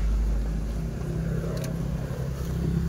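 Toyota Wigo engine running at idle with hunting RPM, a steady low rumble with slight rises and dips in loudness, heard close with no talking.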